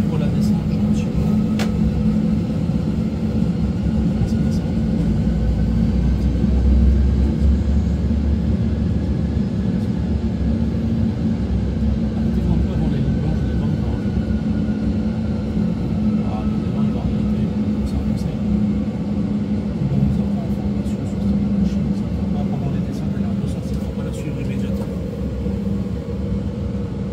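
Steady low rumble of an Airbus A320 flight simulator cabin during descent with the landing gear extended, a continuous loud drone with a faint tonal hum above it.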